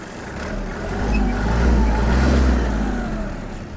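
A Kubota GL-220 mini tractor's small 1450 cc diesel engine chugs steadily nearby, its low rumble swelling slightly in the middle before easing off.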